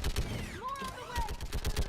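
A mounted gun fires in the video game Mass Effect in rapid repeated bursts, loud and close, mixed with game sounds and tonal sweeps.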